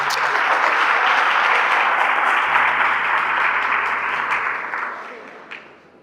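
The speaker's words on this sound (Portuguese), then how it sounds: "Vamos aplaudir a palavra do Senhor." Church congregation applause, a loud dense burst of clapping that holds steady and then thins and fades out near the end, with a low organ-like tone beneath.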